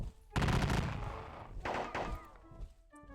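Musket volleys crack out during a Battle of Gettysburg war game, a loud ragged burst of gunfire followed by a second smaller volley and a few scattered shots as the sound fades.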